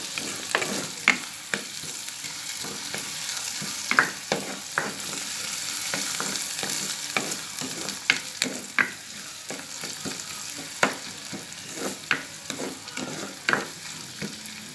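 Onion, green chili, rampe and cinnamon bark sizzle in hot oil for dhal curry, with a steady fry hiss and repeated sharp clacks of a spoon stirring the pan, close and loud.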